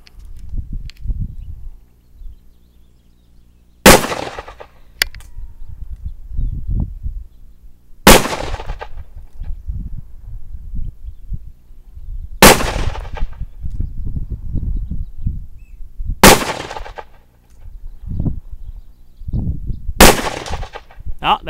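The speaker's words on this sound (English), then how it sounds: "Blinkered Eddie has his 44 Magnum revolver, and he is going to shoot at the smaller steel plate from the same distance we shoot the AK at." A .44 Magnum revolver fires five loud, evenly spaced shots at a small steel plate outdoors, each sharp report followed by a short decay, with low rumble between shots.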